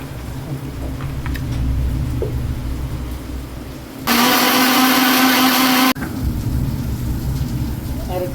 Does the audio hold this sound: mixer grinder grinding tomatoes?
yes